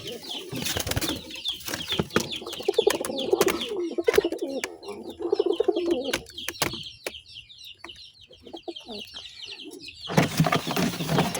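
Pigeons cooing and clucking close by, with occasional wing flaps and rustling, no voices.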